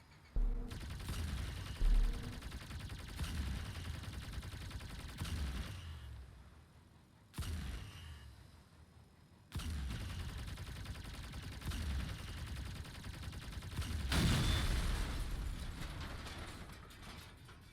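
New gun in Crossout firing on the test server, bursts of rapid mechanical clattering fire that stop and restart several times, loud and close, with short pauses between volleys and a heavier burst near the end.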